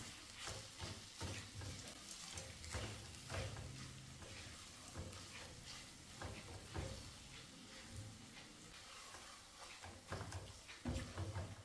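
Roasted nuts and raisins are stirred into a sizzling pan mixture with cardamom powder, giving a faint, close, rhythmic scraping and stirring over a soft continuous sizzle, with no talk.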